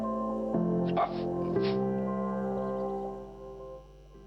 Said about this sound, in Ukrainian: Пес із ДСНС Патрон інформує